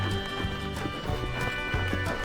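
Horse hooves clip-clopping on a trail ride in Sedona, an irregular run of close hoof strikes with a faint whinny-like note, no talk over them.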